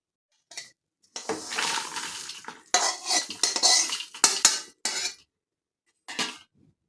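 A spoon scrapes and stirs ingredients sautéing in a pan for nutritious winter laddoos, giving close metallic clinks and scraping in several bursts with short silent gaps and no talking.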